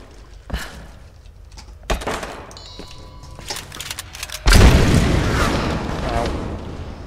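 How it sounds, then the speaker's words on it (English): A loud explosion bursts out in the Tomb Raider video game, following scattered thuds and impacts, then roars on as a broad, sustained rumble. "don't stand close to an explosion"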